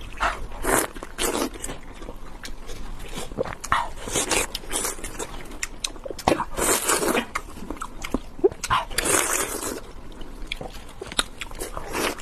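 Close-up wet biting and chewing of buffalo skin fat, with repeated squelchy, crunchy bites and mouth sounds in an irregular rhythm, loud and intimate with no talking.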